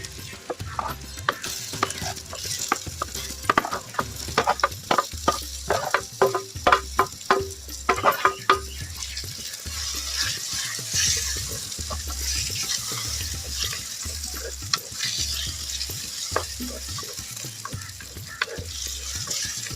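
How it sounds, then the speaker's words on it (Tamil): Onion and tomato with ginger garlic paste sauté in a pan, a low sizzle running throughout under a series of rhythmic spoon scrapes and taps that thin out later, with no voices. "நல்லா கொஞ்சம் தக்காளி நல்லா வதங்கி வரட்டும்."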